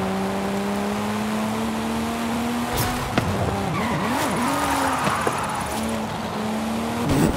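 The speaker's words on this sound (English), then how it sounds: "when you think you're going to slide out, you hit the brakes and drop down again" A car slides and brakes in the racing game Forza Horizon 5: engine drone with a rising, wavering tire squeal through the middle, loud and close, no talking.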